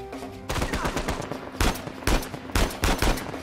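Repeated bursts of gunfire from the Uncharted 4 video game, set in Scotland, crack out in clustered volleys and single loud shots over a steady low musical bed, spaced across the whole stretch.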